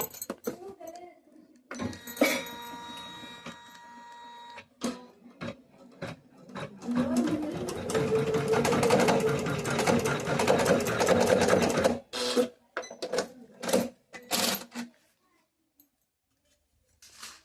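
A computerized embroidery machine runs steadily for about ten seconds as it stitches a design, with a fast mechanical whir, and is preceded and followed by clicks, handling noises and brief stops.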